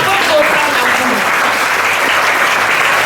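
A church congregation applauding during a thanksgiving service, steady loud clapping from a large group that fills the room.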